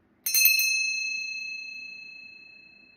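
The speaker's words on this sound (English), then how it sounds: "I'm going to ring our bell to set the intention to cleanse my energetic space" A small metal bell is rung to cleanse an energetic space. A few quick, bright strikes come close together, then a clear ringing tone that fades slowly over several seconds in a quiet room.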